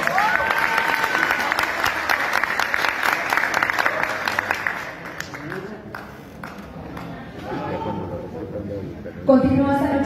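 Audience applause at a youth council recognition gala in Belén, Comuna 16, loud and dense for about five seconds, then fading into scattered claps with voices and a sudden burst of sound at the end.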